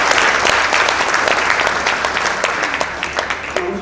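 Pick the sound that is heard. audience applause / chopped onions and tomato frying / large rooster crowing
audience applause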